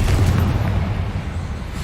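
A Confringo blasting spell going off in Hogwarts Legacy, a heavy low boom that rolls into a sustained rumbling roar, loud and close with no talking.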